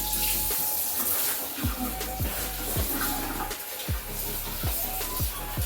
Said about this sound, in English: I'm gonna rinse them again in some cool water.